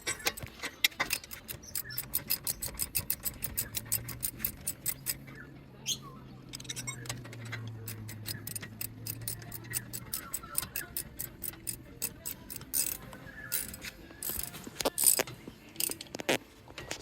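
Ratchet tightening the caliper bolts during a front brake pad change on a Tank 300 4WD, a close run of rapid clicking strokes in bursts with short pauses, plus a low hum in the middle.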